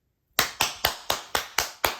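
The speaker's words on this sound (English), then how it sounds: "I'm gonna give you a round of applause" Seven loud, sharp hand claps ring out one person at a steady rhythm, evenly spaced and close up after a short silence.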